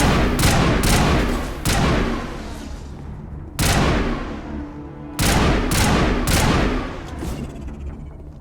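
Sci-fi weapons fire in the Mass Effect video game, loud rapid bursts of gunfire in three long volleys separated by brief drops, each burst a dense rattle of overlapping shots with a booming low end.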